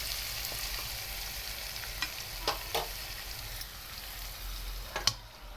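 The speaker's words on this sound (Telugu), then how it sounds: "పచ్చిమిర్చి చూడండి ఇలా ఆయిల్లో బాగా అయితే ఫ్రై అవ్వాలి." Green chillies fry in oil with a steady broadband sizzle, broken by a few sharp clicks and knocks of a spatula against the pan, close and fairly loud with no voice.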